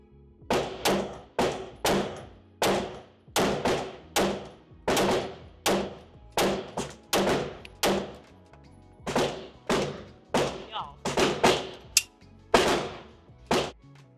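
A Smith & Wesson M&P 2.0 Metal pistol fires 124 grain rounds in a rapid string of about twenty sharp, loud close shots, in quick pairs and bursts with brief pauses.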